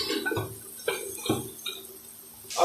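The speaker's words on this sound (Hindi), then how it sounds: "अब इसमें हम थोड़ा सा पानी डालेंगे ताकि ये मसाला जले नहीं" Water poured into a pan of daal mash masala while it cooks, with a few short splashing, sizzling bursts spread over a couple of seconds, close by.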